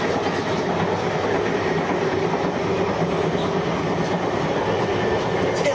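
A train rumbles steadily along the tracks, a continuous loud clatter and roar from inside or very near the moving cars.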